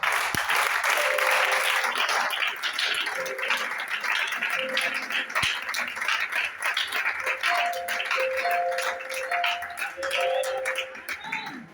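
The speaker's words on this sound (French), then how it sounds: "Nous acclamons aussi l'apôtre" A church congregation applauds the apostle with loud, sustained clapping that fills the room, while sustained tones ring over it and a voice is briefly heard.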